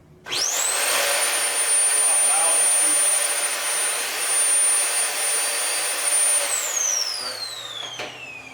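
A Shark Navigator Swivel Plus upright vacuum cleaner switches on and runs with a loud, steady motor roar and high whine, then winds down near the end with a falling pitch.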